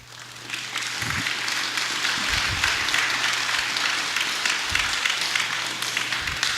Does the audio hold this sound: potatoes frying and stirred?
no